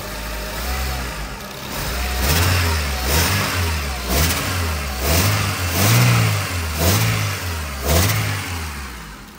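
An Acura RSX Type S engine, a barn find that hadn't run in years, runs loudly up close and is blipped through a series of about eight rhythmic revs, each rising and falling back.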